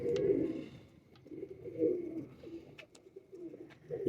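Pigeons coo in soft, low, repeated murmurs, close by and steady, with faint chirps scattered through.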